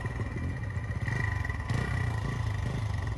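A motorcycle engine drones steadily on a rough hill trail ride in the Aravali hills near Delhi, close and continuous with slight clattering, no voices.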